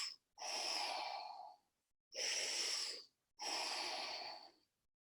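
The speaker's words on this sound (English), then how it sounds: "So you'd be thinking inhale, expand, exhale, narrow, and you should be guiding it in and out." Deep, slow breathing during a baseball performance exercise: three long airy breaths close to the mic, each a sustained hiss separated by short pauses of silence.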